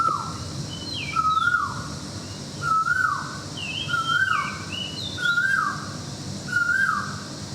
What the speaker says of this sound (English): Sorry, I just have to listen to this bird.